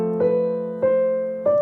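A piano plays three sustained chords in an even sequence, each struck cleanly and ringing close and clear before the next, with no talking.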